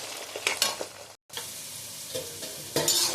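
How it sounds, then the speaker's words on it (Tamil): Garlic, about 400 grams of it, sautéing in a pan with steady sizzling and scraping stir strokes, loud and close, briefly cut by a short gap before the frying resumes, no voices. "நான் பூண்டு ரொம்ப நல்லா இருக்கு, நல்லா வதங்கிட்டு இருக்கு."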